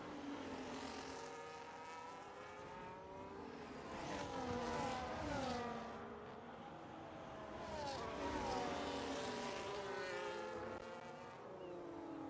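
A Formula 1 race car in a racing video game accelerates through repeated rising engine sweeps, with several upshifts and a continuous high-pitched whine.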